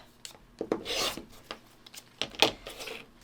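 Cotton quilt fabric pieces, including a large dark triangle, are trimmed up at close range, giving quiet, short scraping and rubbing strokes in an irregular rhythm with no voices.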